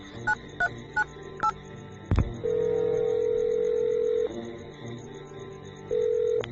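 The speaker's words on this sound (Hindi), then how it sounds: "अपने मोबाइल से किसी को फोन करने लग जाता है" Mobile phone dialing as a sound effect in an audio story: four quick keypad beeps, a click, then long steady ringback tones separated by short gaps, clear and close.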